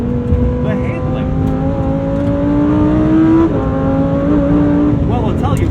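A Lamborghini Huracan STO, a rear-drive supercar, sounds loud and close from inside the cabin, its engine tone rising steadily, dropping briefly at a gear change, then climbing again.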